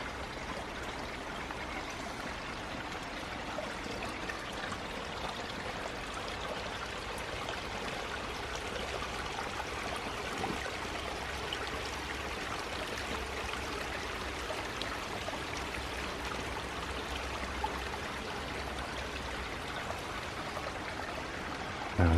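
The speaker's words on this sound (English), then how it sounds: "I hear water" Spring water flows in a steady, continuous trickle and rush on a hillside walk with a big black dog, even and fairly close, with no talk.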